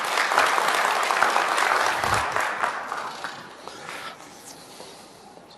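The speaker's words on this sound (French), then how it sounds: "Applaudissez M. Oularbi." A room full of people applauds a guest speaker at a talk on conflict management, dense clapping loud at first and gradually thinning and fading over several seconds.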